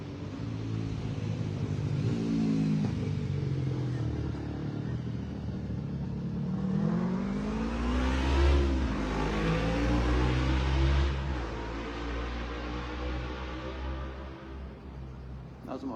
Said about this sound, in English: That was a motorcycle.